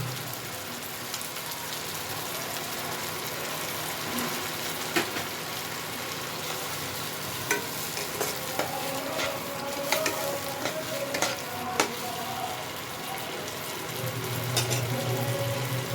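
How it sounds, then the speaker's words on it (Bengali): Garlic frying in a pan until reddish for palak paneer, a steady dense rain-like sizzle close up, with occasional clicks of a spoon stirring and a deeper bubbling swell near the end. "এটা আরেকটু ভেজে নিতে হবে, রসুনের কাঁচা গন্ধটা বেরিয়ে যায়, একটু লাল করে ভেজে নেব।"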